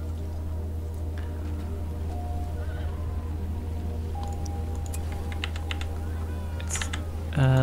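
Horses neigh in the Battle for Middle Earth video game while keyboard typing clicks and a steady low hum run throughout, and a brief louder burst comes at the end.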